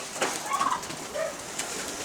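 Pigeons, tumbler birds kept on a snowy rooftop loft, coo softly in a few brief low murmurs over a steady hiss of background noise, with no voices.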